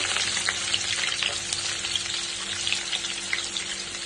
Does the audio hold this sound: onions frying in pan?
yes